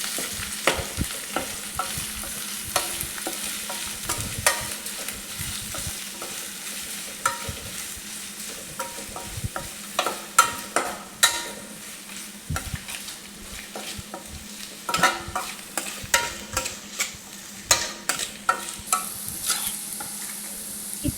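Sliced onions sautéing to golden brown for a paneer gravy, with an even oil sizzle and frequent scraping stir clicks of a spoon against the pan, close and steady, no voices.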